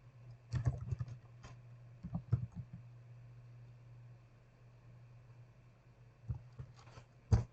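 Typing on a computer keyboard comes in short bursts of clicky keystrokes with quiet gaps and a low steady hum underneath, near and soft.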